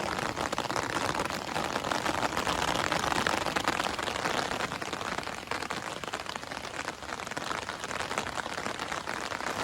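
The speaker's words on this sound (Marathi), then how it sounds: "पाऊस आता पडत सुरुवात झालेली आहे" Steady rain pours down in a dense, continuous patter, holding an even loudness throughout with no voices.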